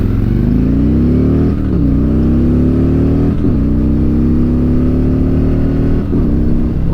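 A cammed Harley-Davidson Milwaukee-Eight 107 V-twin pulls through the gears, its loud, throaty exhaust rising in pitch with each run and dipping briefly at three gear changes, close and continuous.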